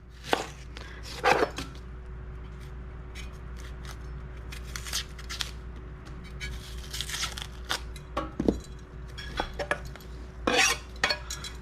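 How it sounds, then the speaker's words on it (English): Knife chopping and quartering an onion on a cutting board while preparing pork carnitas, heard as scattered sharp cuts and knocks against the board, with a louder cluster near the start and several more toward the end over a low kitchen hum. "Now we're just gonna quarter our onion like so, like that."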